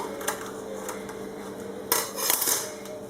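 A knife trims excess brick pastry wrapped around ricotta and onion filling on a plate, giving a few light taps and a brighter scrape against the dish over a steady background hiss, with no talk.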